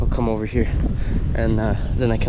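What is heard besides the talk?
No distinct noise like a dog, phone or traffic.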